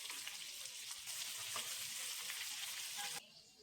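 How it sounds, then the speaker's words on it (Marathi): Finely chopped onion fries on a gas stove with a steady, close sizzling hiss and a few soft stirring clicks, cutting off abruptly near the end. "कांदा बारीक गॅसवर फ्राय होतोय"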